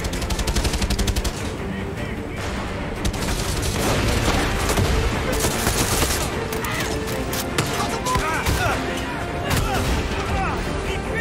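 Dense, loud automatic gunfire from a gun in the Far Cry 6 video game, rapid bursts of shots piling over one another almost without pause, with shouting voices mixed in.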